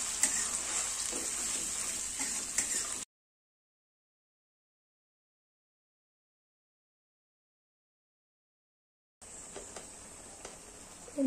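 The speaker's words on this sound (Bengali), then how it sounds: "মশলাটা ভাজা ভাজা করে নিতে হবে।" Spice paste fries in a pan while being stirred. A steady sizzle with small scraping clicks is cut off by a long stretch of silence, then the frying comes back.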